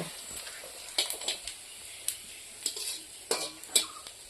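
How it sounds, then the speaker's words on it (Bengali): Panch phoron spices popping in hot oil in a pan, sharp scattered crackles and spits arriving irregularly against a soft background sizzle, close and fairly quiet. "পাঁচফোড়ন দিয়ে নেই ফোড়নটা ফুটে গেছে"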